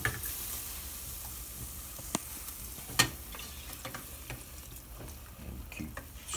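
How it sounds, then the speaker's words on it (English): Thickening milk sauce for mac and cheese is stirred quietly in a pot, a faint low simmer with soft scraping and a couple of sharp spoon taps against the pan. "Stirring to get lumps out, no lumps."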